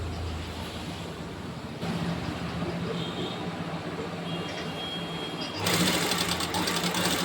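A sewing machine stitching blouse fabric, a fast steady mechanical rattle up close that pauses briefly and then resumes louder.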